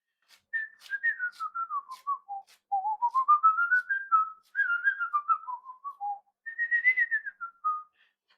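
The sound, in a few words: person whistling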